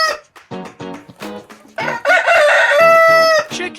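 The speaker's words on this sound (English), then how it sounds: "Chickens." Several chickens cluck in quick, close bursts, and then a rooster lets out a loud, drawn-out crow in a farmyard setting.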